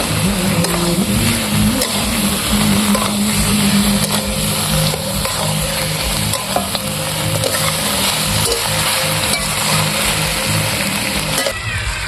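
Goat mutton sizzles steadily in a pot as it is sautéed down with spices, a loud, continuous frying hiss with occasional stirring scrapes throughout.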